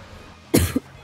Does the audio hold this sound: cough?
yes